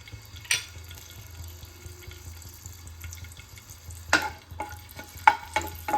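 Garlic goes into hot coconut oil in a pan for a tomato chutney. A faint, low sizzle runs throughout, broken by several sharp metallic clicks and scrapes of stirring near the end.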